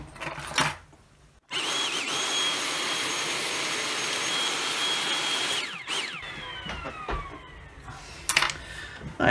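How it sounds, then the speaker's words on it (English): A vacuum cleaner sucks dust out of an opened Bose Wave radio alarm clock during a repair: a loud, steady whining roar runs for about four and a half seconds, then cuts off into clicks and handling noises. "I think I'll just get the vacuum and we'll just give it a quick clean there"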